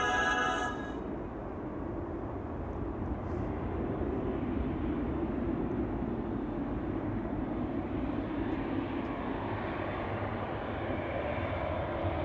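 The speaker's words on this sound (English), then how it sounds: "KLM flight 565, that's a 787-10 Dreamliner going to Nairobi" A KLM Boeing 787-10 Dreamliner departs Amsterdam Schiphol for Nairobi, its engines delivering a continuous broad rumble that begins with a brief brighter tone and then settles into a steady, distant-sounding roar.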